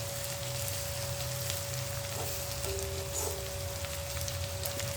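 Onions frying in a pan over a medium flame give a steady, close sizzle of broadband crackle and hiss that holds constant throughout, with no voices.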